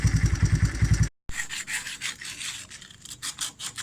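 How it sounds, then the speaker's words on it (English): Sanding surface rust off the rack of a 1984 Honda 200S ATC, with rough, repeated rasping strokes up close, after a moment of an idling engine's pulsing rumble. "Sanding down that rack"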